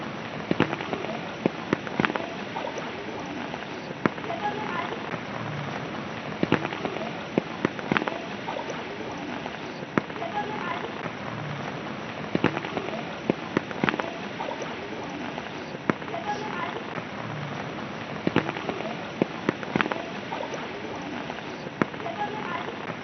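Heavy rain pours steadily, a dense hiss sprinkled with sharper drops and splashes throughout.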